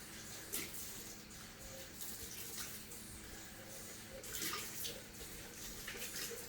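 Water and bleach are poured out of small containers into a sink, making a steady, faint splashing and gurgling stream with a couple of louder gushes.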